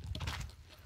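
A horse walks along a path with quick, uneven clip-clopping hooves at moderate distance, fairly quiet against the background.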